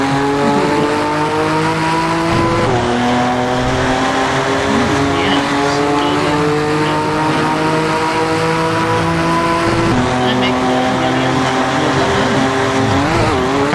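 A Lamborghini races through heavy traffic in Assetto Corsa at around 200 mph, its engine droning loud and steady with shifting pitch and a gear change partway through.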